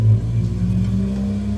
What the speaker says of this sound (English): Excuse the neighbor. He's got a loud S10.